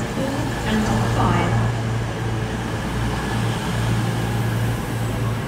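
An eight-coach CrossCountry Class 220/221 set made up of 220024 and 221136 stands at Exeter St Davids. Its diesel engines hold an even, droning hum close by, and someone speaks over the sound.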